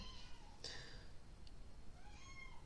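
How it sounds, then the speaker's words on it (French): A domestic cat meows twice, a short call and then a longer rising-falling one, faint and fairly close against quiet room hiss. "Il y a mon chat qui confirme."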